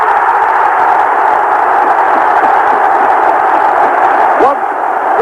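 Huge roar of about 50,000 Celtic supporters celebrating at a Scottish Cup final, a dense, sustained wall of crowd noise heard over a radio broadcast, loud throughout.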